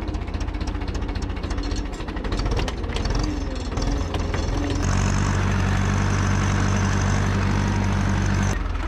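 An Ursus C-360 tractor ploughing a wet field for garlic: a loud, close diesel engine thrums with a steady knocking rhythm and grows heavier and more constant partway through.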